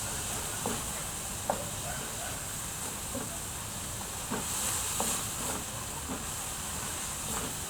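Onion and water sizzle steadily in a pan, a faint continuous hiss with occasional soft pops and stirring sounds.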